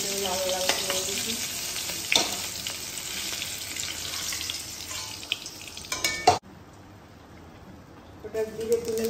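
Garden-fresh vegetables fry in hot oil while being stirred in a pan, a steady sizzle with scraping spoon strokes, briefly cutting out before the frying resumes.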